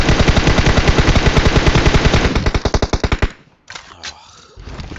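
Rapid automatic gunfire from PUBG Mobile, a loud, dense burst of shots for about three seconds that slows into spaced final rounds before cutting off, followed by quieter game noise.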